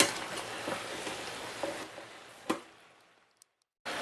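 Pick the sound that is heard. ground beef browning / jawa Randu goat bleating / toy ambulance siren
ground beef browning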